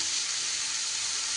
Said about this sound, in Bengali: এইবার খুব ভালো করে নাড়িয়ে চাড়িয়ে এটাকে একটু ভাজা ভাজা করে নিতে হবে।